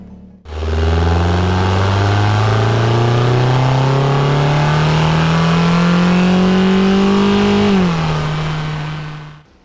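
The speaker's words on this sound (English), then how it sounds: "let's go for a drive and see how the stock intake box sounds like." A car engine with its stock air intake box hums and slowly revs higher for several seconds while driving, then drops as it shifts, loud and close, with no voices.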